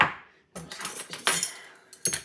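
Metal measuring spoons clink and scrape against a bowl while flour, baking powder and baking soda are stirred together. The bright, close clatter comes in quick irregular bursts after one ringing tap.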